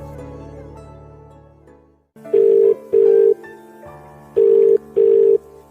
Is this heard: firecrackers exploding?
no